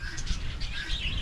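Pet parakeets kept in a home aviary, chirping in a quick, bright, steady twitter that sounds fairly close with no talk over it.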